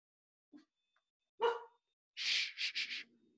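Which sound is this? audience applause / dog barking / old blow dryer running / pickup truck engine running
dog barking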